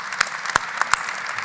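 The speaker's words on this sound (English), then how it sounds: "please give him a round of applause" An audience applauds a speaker at an industry conference session in the Basque region. A steady patter of clapping is punctuated by a few sharper, louder claps close by.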